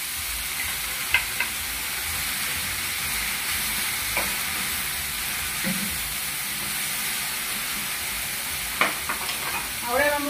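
Onion and tomato frying in a pan, a steady soft sizzle broken by a few scattered clinks and scrapes of stirring, close and alone without talk.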